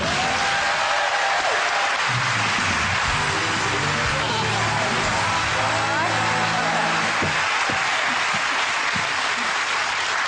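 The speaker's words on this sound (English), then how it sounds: "Round of applause for Dwina, I think." Studio audience applauding on a television game show, a broad continuous clapping roar that stays loud throughout with voices and other sounds partly mixed in.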